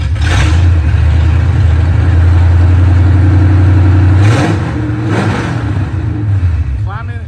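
A 1968 Ford Mustang engine cranks over and revs, a loud steady mid-pitched roar that holds for several seconds before easing off, with people talking nearby.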